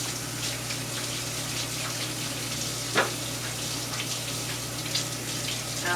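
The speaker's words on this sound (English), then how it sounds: "So I'm going to rinse my hands quickly" A kitchen tap runs steadily while hands are rinsed under it, a continuous close hiss of water with a single brief splash or knock partway through and no talk.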